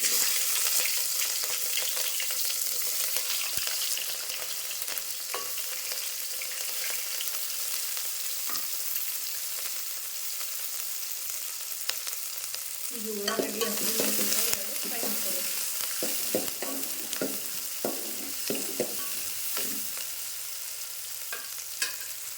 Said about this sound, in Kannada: ನಾನು ಈಗ ಸಣ್ಣ ಕಟ್ ಮಾಡಿದ ಉಳ್ಳಾಗಡ್ಡಿ ಮತ್ತು ಹಸಿ ಮೆಣಸಿನ್ಕಾಯಿ ಹಾಕೊಳ್ತೀನಿ ನೋಡಿರಿ